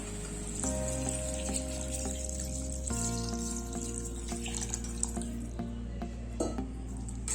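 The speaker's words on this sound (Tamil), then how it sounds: "இப்போ நம்ம இதில் தண்ணி ஊற்றிடலாம்" Water pouring into a pot of spicy mutton gravy (karichaaru kuzhambu), a steady close liquid rush with a faint sizzle under background music, running the whole time.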